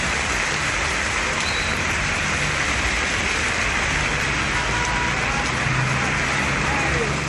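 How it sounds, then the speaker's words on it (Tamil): Heavy rain pours down in a dense, steady hiss that stays loud and unbroken throughout, with a faint low rumble beneath. "1 மணி நேரத்திற்கு மேலாக கனமழை கொட்டியது"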